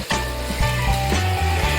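Vegetables for undhiyu, including bottle gourd and fried eggplant, potatoes and muthiya dumplings, sizzle in hot oil in a pan, with a few close stirring scrapes over the continuous frying hiss.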